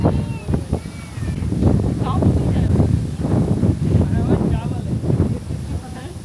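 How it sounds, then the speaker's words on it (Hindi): Wind gusts across the open outdoors of a village, buffeting the microphone in rough, uneven bursts with rustling underneath, while someone talks over it. "जो हवा चल रही है"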